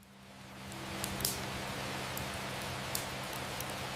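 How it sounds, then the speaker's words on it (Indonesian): Soft rain processed for ASMR, a faint even hiss of falling drops with a low steady hum beneath and a few slightly louder drip ticks. "kita pilih hujan lembut dulu, kita proses audio"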